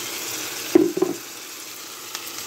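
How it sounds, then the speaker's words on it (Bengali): Chopped tomato drops into sizzling fried masala, setting off a sharp brief crackle followed by a quieter steady hiss. A faint scrape is heard near the end. "এখন আমি দিয়ে দেব এই যে কেটে রাখা টমেটো কুচি"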